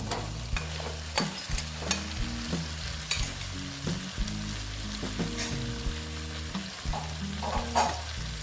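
Ash gourd pieces frying in oil and being stirred, a continuous close sizzle punctuated by regular spatula scrapes and knocks against the pan, with no talk.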